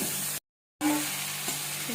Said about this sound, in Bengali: এবার আলু আর মাশরুমটাকে মশলার মধ্যে দিয়ে একসাথে কষিয়ে নিতে হবে মশলাটাকে।